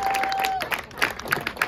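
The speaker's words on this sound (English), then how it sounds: "Give a round of applause, ladies and gentlemen." Crowd applause at a high school junior varsity soccer game, a burst of scattered clapping and cheering heard at moderate distance after a steady tone fades.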